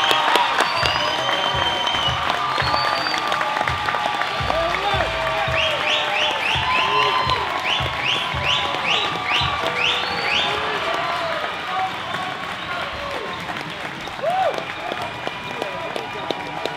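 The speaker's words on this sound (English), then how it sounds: "nothing but a round of applause." Crowd applause and cheering fill a fight venue after a hard-fought bout between Roque Zapata and Ray Barlow, steady and dense for the whole stretch, with voices mixed into the noise.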